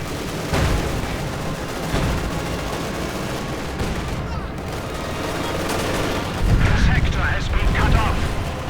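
A howitzer artillery barrage in Company of Heroes 2 pounds away, dense overlapping booms and rumbling blasts with heavier impacts toward the end, while a commentator talks over the battle.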